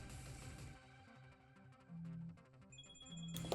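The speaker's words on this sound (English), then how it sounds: "I'm getting a phone call." A phone ringtone chimes during a Pokemon battle, bright electronic notes sounding in short bursts that repeat, fairly quiet and heard alone with no speech.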